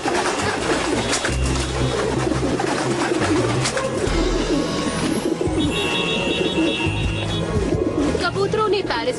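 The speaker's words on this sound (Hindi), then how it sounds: "कबूतरों ने पेरिस पर कब्जा कर लिया है।" Many cartoon pigeons coo in a busy, continuous chorus in Paris, with flapping and crowd-like bustle throughout; a faint tonal beep sounds midway.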